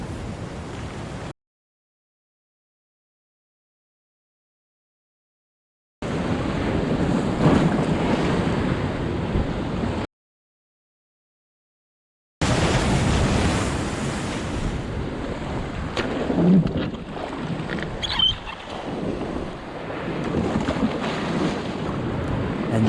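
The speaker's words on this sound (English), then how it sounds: "While we've got waves smashing in, it was a bit scary" Ocean waves smash in at the Norah Head boat ramp, a loud churning roar of surf with heavy wind buffeting the microphone. The sound comes in stretches broken by silent gaps.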